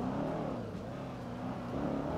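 In GTA 5, a modded Charger's engine growls and revs steadily, loud and close, with a rough low rumble sustained throughout and no talking.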